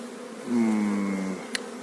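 Honeybees buzz loudly and steadily at close range over open hive frames with capped brood, a continuous droning hum alone with no talk.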